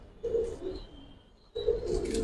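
Giribaz pigeons at a breeding loft give soft, low cooing in two bursts separated by a brief quiet gap, close by and fairly clear.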